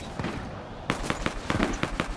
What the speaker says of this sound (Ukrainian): Я там чую цей постріл.